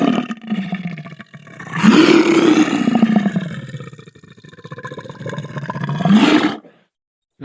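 A synthesized tiger roar plays from a simple animal-sounds computer program, two loud, rough growling roars rising and falling, separated by a quieter rumbling stretch, then cutting to silence.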